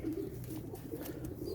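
A pet pigeon coos softly close by, a low continuous throaty murmur with no voices alongside.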